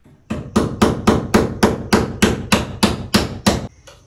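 Hurricane ties are hammered onto the wooden wall framing of a shed, producing about eleven loud, sharp, evenly paced hammer strikes in quick succession, close by and with no talking.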